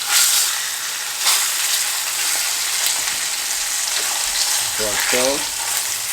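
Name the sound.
pork steaks frying in grease after being flipped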